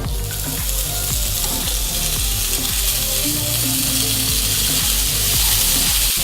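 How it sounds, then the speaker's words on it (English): Pre-mapled bacon rashers frying on a sandwich press, a bright continuous sizzle close up, with repeated rhythmic clicking and ticking sounds running beneath it throughout. "on our sandwich press, we're going to chuck on a few rashers of bacon"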